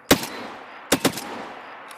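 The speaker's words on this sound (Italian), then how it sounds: "Io ho sentito sparare a..." Two sharp gunshot bursts in the game Escape From Tarkov, one short crack followed by a quick double shot, loud and close with fading echoes, no talking.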